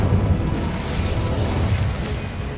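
Incendio fire spell cast in Hogwarts Legacy, a loud sustained roaring burst of flame and crackling energy filling the whole moment at close range, with no voices.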